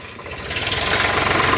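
A tractor engine labours while pushing soil back into a pit on a farm, a close, throbbing low rumble that grows gradually louder and heavier over the short stretch, with no voices.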